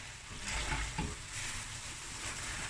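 A spoon stirs oxtail curry in a pot over the heat, giving a faint scrape and a soft, steady sizzle close by, with no voices.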